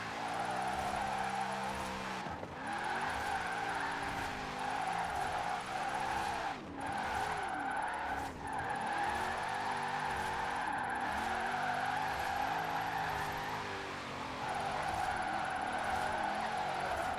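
Tires squeal continuously as a Formula Drift car slides through switchbacks in a video game, with the engine note rising and falling steadily and no pauses.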